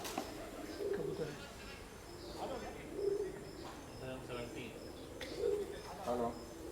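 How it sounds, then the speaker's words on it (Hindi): Soft, low pigeon coos repeat a few times at a distance during a cricket practice game, with people talking and ambient outdoor noise in the background. "कबूतर"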